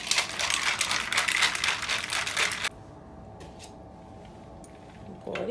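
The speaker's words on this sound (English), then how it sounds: "Put the top on, give it a little shake." A cocktail shaker filled with ice for a caramel apple martini is shaken hard, a dense rapid rattle for about three seconds that stops abruptly, followed by quiet and a brief clink.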